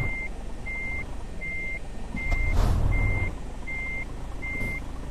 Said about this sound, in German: Ich fahre nochmal rückwärts.